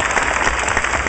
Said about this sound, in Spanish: si van a aplaudir todos juntos para que se oiga